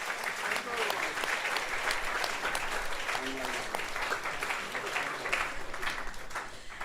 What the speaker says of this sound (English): please give a big round of applause to yourself